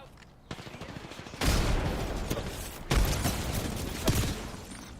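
Fairly quiet gunfire in an Apex Legends match at World's Edge, with sustained automatic bursts broken by short pauses and a few sharper cracks.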